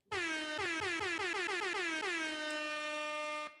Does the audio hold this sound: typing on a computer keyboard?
no